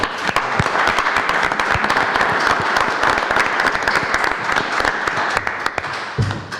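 Applause fills a city commission meeting room in Rio Grande City, with a dense, continuous round of many people clapping at close range and steady volume for several seconds.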